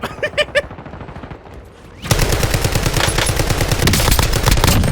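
Rapid automatic bursts from a paintball gun in the video game Warzone: a few spaced shots, a short pause, then a loud sustained stream of fast, evenly spaced firing that continues to the end.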